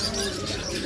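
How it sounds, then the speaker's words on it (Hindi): Caged birds, including parrots, at a bird market in Qatar give soft coos and chirps in a faint, busy background murmur. "ये मार्केट मैंने पहली बार देखी है जहाँ पे ये चिड़िया बिक रही हैं, बर्ड्स मार्केट"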